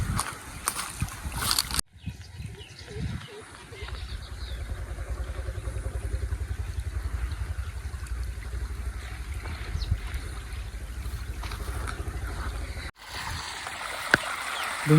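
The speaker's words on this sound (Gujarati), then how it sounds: "ડુંગળીમાં પાણી ચાલુ છે હજી." Irrigation water gushes steadily into an onion field, a continuous low rushing flow with a motor-like throb, close and fairly loud, briefly interrupted by handling noise at the start and end.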